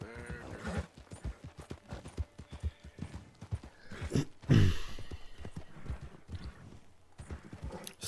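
A horse in Red Dead Redemption 2 trots with steady clip-clop hoofbeats, then gives a loud whinny midway before the hooves carry on, all close.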